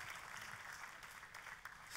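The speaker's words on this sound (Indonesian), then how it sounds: "tepuk tangannya yang paling meriah buat Tuhan kita" Steady applause from a church congregation during a sermon, a broad wash of clapping that holds at an even level throughout.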